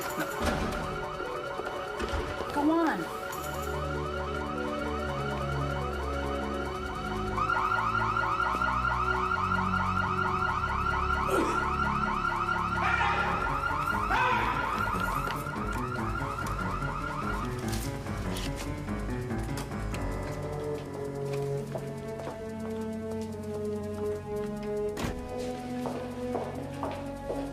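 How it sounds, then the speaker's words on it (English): A car alarm wails in a steady repeating cycle for much of the scene, loud and close, then gives way to other sounds as a brief word is spoken. "Something set off the alarm."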